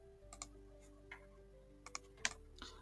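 Computer keyboard typing while renaming a node in a restaurant-finder workflow: a few sparse, light key clicks, then a quicker cluster of taps near the end, close and quiet over faint background hum.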